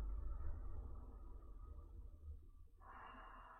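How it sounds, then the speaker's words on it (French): Slow, deep diaphragmatic breathing during a relaxation exercise, a faint close airy breath that fades before a soft tonal shift near the end. "Cette respiration diaphragmatique vient masser également les viscères."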